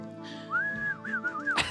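A single person whistles a wavering tune, a long sustained note followed by quick warbling dips, close and distinct over a low hum, ending with a sharp noisy burst.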